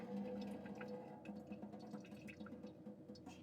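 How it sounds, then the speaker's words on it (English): Rinse water is poured out of a drink can, faint trickling and dripping with small irregular splashes over a low background hum. "give it a good swirl, and then pour it back out."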